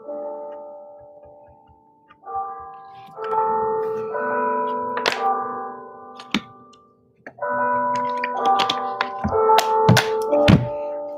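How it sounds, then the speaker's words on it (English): A bell rings out a sequence of sustained, layered tones with sharp clanking strikes, pausing briefly midway before resuming, loud and close, signaling the end of a livestream, with no voices. "there's my bell"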